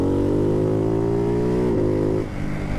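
A Ducati Hypermotard 698 Mono single-cylinder with a Termignoni exhaust is revved hard close by, its loud, buzzing note holding high and climbing slightly before it drops off sharply near the end.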